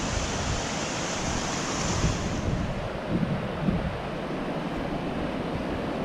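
Floodwater rushes hard over rocks after heavy floods, a steady loud broadband roar with a gusty, surf-like wash that holds constant throughout, with no voices.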